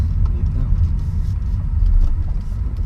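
A BMW 323Ci car engine pulling in third gear gives a steady low rumble with a continuous mid-level drone from inside the cabin, with people talking over it.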